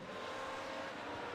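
A yellow BMW M8 race car in an iRacing GTE race at Imola sweeps past, its engine a steady mid-pitched drone, fairly faint and brief with no talk over it.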